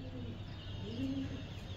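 A pigeon coos softly, a single low, drawn-out call rising near the middle, faint over quiet background noise at a pigeon-flying spot.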